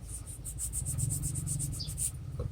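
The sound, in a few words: sanding with fine sandpaper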